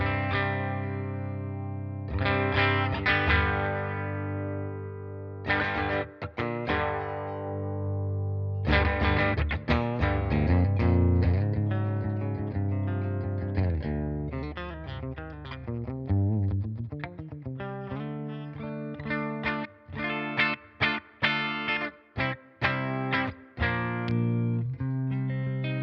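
An electric guitar plays through a Blackstar St James EL34 amp with distortion, chorus and other effects on its active-EQ channel: long ringing chords give way to busier picked lines and choppy staccato strums, loud and alone.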